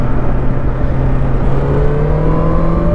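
A 2021 BMW S1000XR motorcycle engine brakes on a test ride, a loud continuous engine drone whose pitch slowly slides as the bike decelerates, with no voices.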